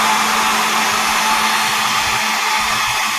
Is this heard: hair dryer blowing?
yes